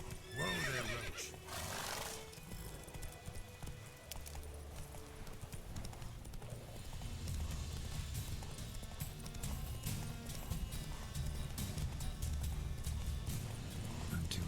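Roach, a horse in the video game Witcher 3, whinnies loudly and then trots on with steady clip-clop hoofbeats, heard close and clear with no one talking.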